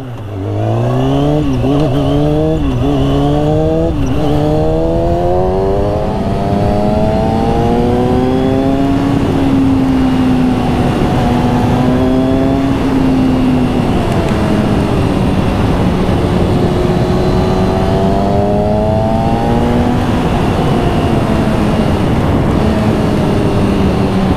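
A loud Kawasaki ZX6R 636 sport motorcycle prepared for stunt riding revs continuously and close by, its pitch climbing and dipping through repeated gear changes, with heavy roaring noise throughout.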